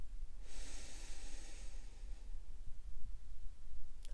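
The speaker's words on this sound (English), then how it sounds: "Inhale." One slow, deep inhale during a meditation for anxiety, a soft airy breath rising and then fading over a couple of seconds, close and quiet, with a low background hum.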